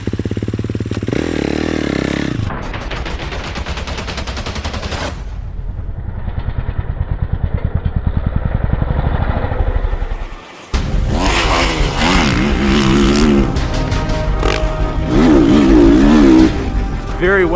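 A new Kawasaki KX450 motocross bike with a reworked engine is ridden hard, revving up through rising, buzzing gear pulls, then a brief cut before the engine roars back with more aggressive, wavering revs.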